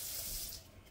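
Hot water running from a kitchen tap in a brief, soft, steady splashing stream.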